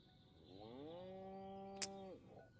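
A single long cow moo in the video game Destroy All Humans!, a clear harmonic bellow rising then holding steady for over a second before cutting off, with a brief sharp click near its end and no talk.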